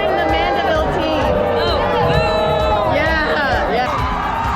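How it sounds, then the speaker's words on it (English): A crowd at a football stadium boos the Mandeville team, with a loud, sustained mass of voices, whoops and shouts mixed with nearby chatter. "We're booing the Mandeville team."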